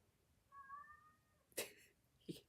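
A pet cat named Ellie, lying in bed, gives a soft high meow, followed by two short faint sounds from close by in a quiet room.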